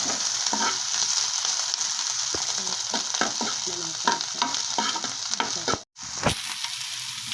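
Millet noodles with cabbage, capsicum and carrot being stirred in a pan: a continuous close sizzle with irregular scraping and tossing strokes, and a brief pause near the end.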